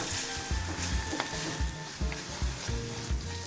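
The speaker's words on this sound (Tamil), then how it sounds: "அதே கடாயில் கொஞ்சம் எண்ணெய் ஊற்றி நம்ம நறுக்கி வச்சுருக்கிற பிரண்டையை போட்டு வறுத்தெடுத்துக்கலாம்" Steady sizzling of chopped adamant creeper (pirandai) frying in hot oil, with occasional clinks and stirring scrapes from a pan. Close and continuous, no one speaking.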